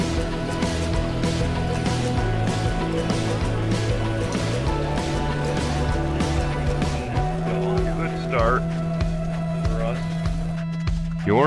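Race trucks from a truck series video game roar around Daytona under the lights, with sustained droning engine tones that shift pitch as they run together, loud and continuous under a commentator's voice.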